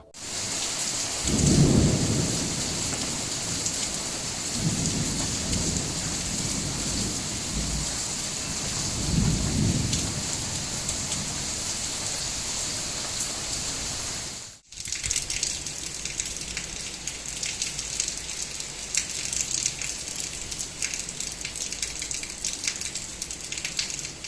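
Heavy rain pours steadily in a dense broadband hiss, with deep thunder rumbles rolling in near the start and again around the ten-second mark before the downpour continues alone.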